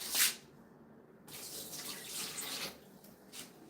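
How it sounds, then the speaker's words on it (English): Water is poured out of a pot of oxtail soup, splashing and gurgling in uneven surges, with a sharp splash at the start and several swells of running liquid after. "I'm going to empty out a little bit of water"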